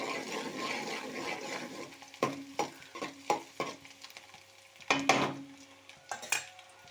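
Palm and coconut oil heating in a cooking pan with garlic, a soft bubbling sizzle under a series of sharp utensil clinks and scrapes against the pan, close and fairly quiet.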